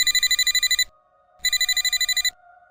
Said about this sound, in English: Then my work phone rang.